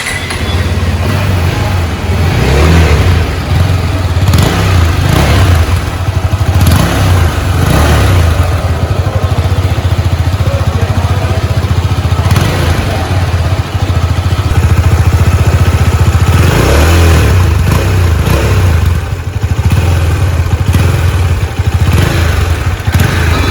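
A KTM 390 Adventure single-cylinder motorcycle runs close by, its exhaust note loud and continuous, rising and falling through several revs over a steady idle.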